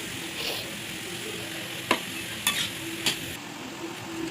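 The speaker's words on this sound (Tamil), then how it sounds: "வெங்காயம் வதங்கிடுச்சுங்க. இப்போ வந்து வாழைத்தண்டு போடலாம்." Chopped banana stem goes into a pan of softened onions with turmeric, frying with a constant sizzle as a spoon clinks and scrapes against the metal in a few sharp strokes.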